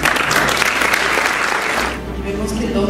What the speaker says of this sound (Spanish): denle un fuerte aplauso al doctor Ignacio Blas